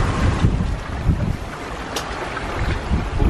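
Strong wind of about 22 knots roars over a sailboat carrying a reefed genoa, buffeting the microphone loudly and continuously, with water and surf noise churning underneath.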